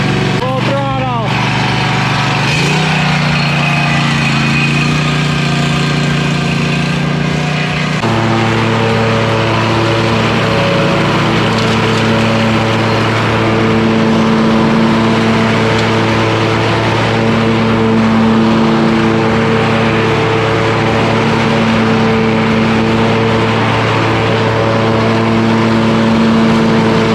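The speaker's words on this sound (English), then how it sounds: "So the Kawasaki engine, just gotta choke it and then kick it off." A Kawasaki-engined mower, choked and kick-started, runs at full throttle with a steady, loud droning hum and harmonic whine that rises into a constant roar after a short start-up burst, continuing near and unbroken throughout.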